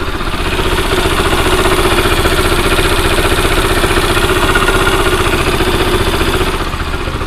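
A repaired Yamaha Gladiator SS125 motorcycle engine idles close by with a steady, even low putter that holds for several seconds, with no talking.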